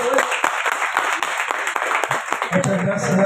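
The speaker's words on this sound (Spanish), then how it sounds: "¡Fuerte el aplauso!" Audience applause at the opening of an art exhibition in a gallery: a dense, steady patter of many hands clapping for about three seconds, with voices talking underneath it.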